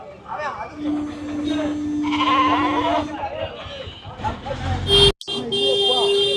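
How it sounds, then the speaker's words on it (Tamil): Sheep bleat several times at a busy outdoor goat market in Mukkudal. The wavering calls come fairly close, over crowd chatter and background noise, with a sharp electronic buzz near the end. "செம்மறி ஆடு அழகான செம்மறி ஆடு"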